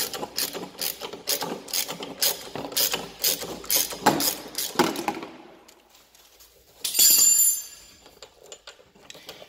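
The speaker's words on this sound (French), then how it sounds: "Donc ça nous permet ensuite de dévisser cette vis." Wrench work on a steering column bolt of a 2005 MBK Skyliner scooter: a rapid run of close metallic clicks and rattles for about five seconds, a pause, then a brief bright metallic scrape and a few faint taps.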